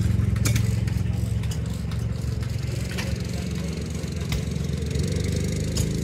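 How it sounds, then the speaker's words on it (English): A 1955 John Deere 70 all-fuel tractor on Firestone tires runs at a steady low rumble with rattling clatter at an outdoor steam show, the engine noise continuous and fairly near throughout. "55 John Deere 70 all fuel. That's a pretty tractor."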